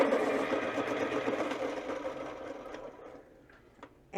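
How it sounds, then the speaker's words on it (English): A pencil sharpener grinds a Derwent colored pencil with a close, continuous whirring rasp that gradually fades and thins out over several seconds, ending with a few small clicks. "I'm going to sharpen these real quick"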